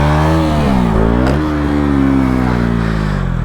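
A 125cc four-stroke motorcycle engine revs loudly and close up during a wheelie, its pitch rising, dipping sharply as the throttle eases, then climbing and holding steady.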